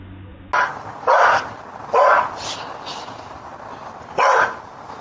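A dog barks on doorbell camera footage, giving several loud, spaced bursts recorded close to the camera over a noisy outdoor background.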